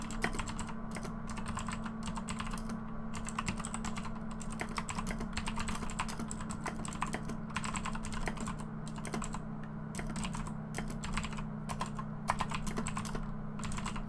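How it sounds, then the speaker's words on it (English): Steady, rapid clacking of a computer keyboard being typed on continuously, close and fairly loud, with no voices. "And yes, my keyboard is loud."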